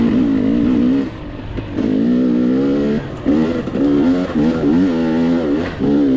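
KTM 300 two-stroke dirt bike revving hard on a rocky hare scramble hill climb, engine note rising and dipping in repeated surges with brief throttle lifts, loud and close.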